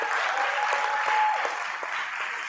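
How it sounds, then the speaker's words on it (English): A high school TED-Ed night audience gives a short round of applause for club sponsors, an indoor clapping wash that stays steady and moderately loud with a faint tone running through it. "So can we just have a quick round of applause for our club sponsors?"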